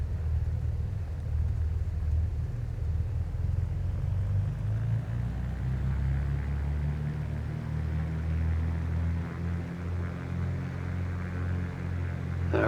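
A Cessna C185F Skywagon engine in a flight simulator game runs up to 1,700 RPM, a steady loud low droning rumble with a slight rise in pitch partway through.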